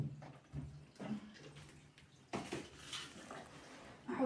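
Water splashing in a kitchen as fresh coriander is soaked to loosen dirt and mud, with irregular sloshing and a few light clinks from a bowl, fairly quiet and close.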